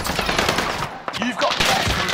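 Video game gunfire: rapid automatic bursts crackle loudly and close, with a brief pause midway before the shooting resumes, and a voice briefly sounds among the shots.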